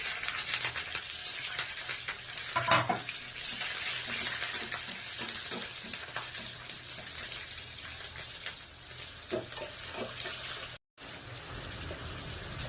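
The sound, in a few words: mutton frying in a pan for mutton fry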